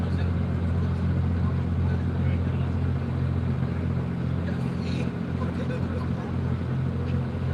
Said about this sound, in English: That's our first trophy spec truck, number 200.